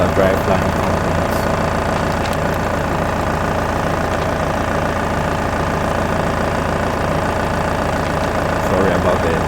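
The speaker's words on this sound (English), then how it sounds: "I should have turned off the engine." A Mahindra Roxor engine idles steadily nearby with a constant low rumble and rhythmic knocking pulse, while someone talks over it.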